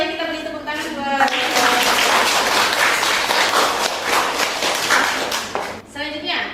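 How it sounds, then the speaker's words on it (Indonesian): Classroom applause rewarding a student's answer during a public health nutrition lesson: a dense burst of many hands clapping, lasting several seconds, with a teacher's voice talking just before and after. "Ya, bagus jawabannya, kita beri tepuk tangan buat."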